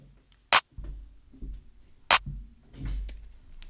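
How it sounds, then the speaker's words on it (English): Basic clap drum sample programmed in FL Studio, two crisp loud hits about a second and a half apart, with low muffled rumble and faint background sounds between them. "Pretty basic clap."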